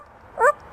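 Talking parrot imitating a dog's bark, a single short, sharp yelp-like call, fairly close and clear against a quiet room.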